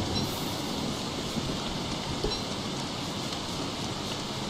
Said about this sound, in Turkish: Bu ne yağmur ya arkadaşım?